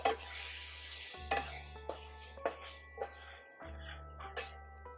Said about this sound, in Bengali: এই সমস্ত দিয়ে মশলাটাকে কষতে হবে।